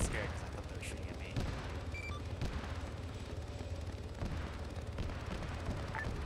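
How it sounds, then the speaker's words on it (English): Gunfire from soldiers in the Halo-themed Arma OPTRE video game, a steady stream of distant rifle cracks and muffled booms over a constant engine-like rumble, with occasional talk mixed in. "Yeah, they're shooting at something else."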